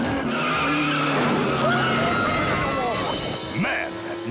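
A cartoon spy car peels away with screeching, skidding tires and a revving engine, the squeal rising and falling over a few seconds while voices talk over it.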